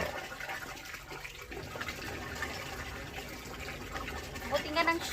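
Water gushes and splashes into a container as it is pumped and collected for storage, a steady close pouring sound with a person talking over it.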